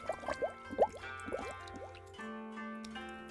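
Watery video game effects: a handful of bright drips and squishy splashes in an irregular rhythm, then a calmer bubbling, gurgling wash with a faint held tone underneath.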